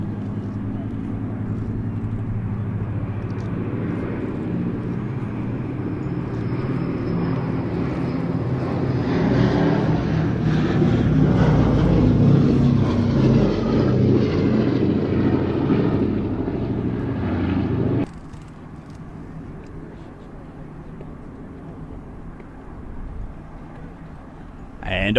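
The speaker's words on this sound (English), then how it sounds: "What a pleasure to once again see a display over Duxford from B-17G Sally" A B-17G bomber flies a display over Duxford airfield, its piston engines producing a loud, steady propeller drone that swells and then drops off sharply, with someone talking over it.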